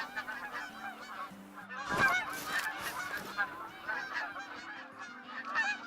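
A flock of geese flying overhead gives a steady run of honking calls, swelling to a louder burst midway before trailing off, heard without any talk.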